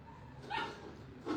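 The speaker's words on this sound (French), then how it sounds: "Oh, calme le chien là." A dog gives two short barks, one mid-clip and one at the end. Both are faint and distant over a quiet background, with no talking.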